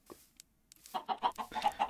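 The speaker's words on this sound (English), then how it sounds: "When I say there's chickens everywhere" Chickens cluck in a rapid series of close, choppy calls that build over the second half, after a few softer scattered clucks and bumps at the start.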